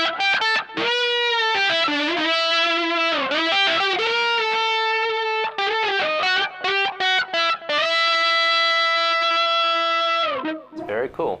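Loud electric guitar through fuzz and octave pedals, wailing sustained lead lines with bends and quick accented stabs, ending in a long held note that cuts off.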